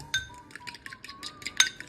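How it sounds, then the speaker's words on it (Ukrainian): A fork beats eggs in a bowl to break the yolks, giving a quick series of light metallic clinks against the bowl over a steady faint tone. "Окремо збиваємо яйця виделкою, щоб розбилися жовтки."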